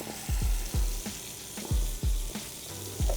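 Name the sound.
onions frying in pan with fat drippings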